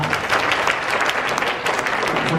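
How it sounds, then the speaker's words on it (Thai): An audience at a Thai academic lecture on Ayutthaya history applauds as speakers are introduced, a dense, steady wash of many hands clapping throughout without a break. "ขอเสียงปรบมือ"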